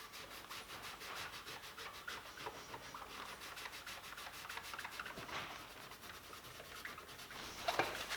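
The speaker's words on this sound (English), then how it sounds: "The door handles were treated in the same way using a handheld cutting applicator and finishing polish." A handheld cutting applicator rubs polish into the oxidized paint around the door handles of a Mitsubishi Evo 8, making a quiet, rapid back-and-forth scrubbing that goes on steadily at close range.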